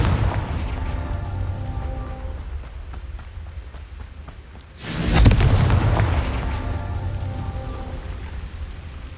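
Confringo fire spell in the Hogwarts Legacy video game, a sudden heavy boom bursting midway through and rolling off into a long crackling rumble over a steady game ambience.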